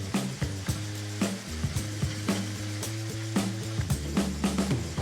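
Bacon jam with molasses sizzles steadily in a pan at close range, with a soft continuous crackle broken by repeated stirring clinks and scrapes.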